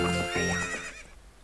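A single loud, close horse neigh from the Zelda Ocarina of Time 3D video game, heard during a horse race. It rises and wavers for about a second, then fades into quiet.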